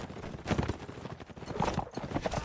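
Saddle horse hooves clip-clop in a real-time strategy game match, a steady run of rapid hoof beats laid over busy in-game battle noise.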